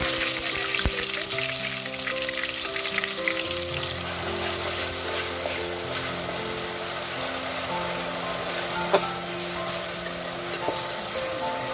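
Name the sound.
onions frying in hot oil with spices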